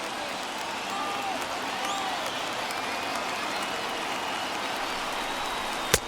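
A baseball stadium crowd of more than 39,000 roars in a steady, dense wash of cheering and applause that holds throughout, ending in a sharp, close thump.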